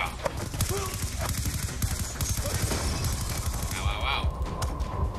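Enemy gunfire in Call of Duty: Black Ops 2 rattles in dense, continuous automatic bursts inside a server room, with voices calling out over the shooting.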